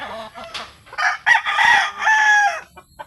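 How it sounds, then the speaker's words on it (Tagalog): Several roosters crow loudly and close by, overlapping long cock-a-doodle-doo calls with a few clucks from nearby chickens. "Kung magmamanok ang pinag-usapan, madami tayong manok dito."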